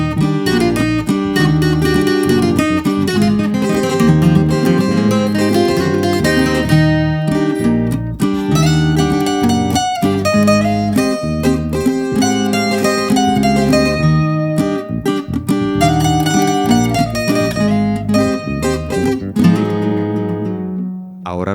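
Requinto lead guitar playing the melody of a song at normal speed, a busy run of plucked notes over a full, steady accompaniment, loud and continuous with no voices.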